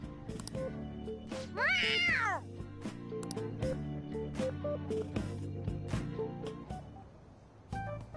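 A cat meows loudly in Persona 5 Royal, one drawn-out rising and falling call over steady game music.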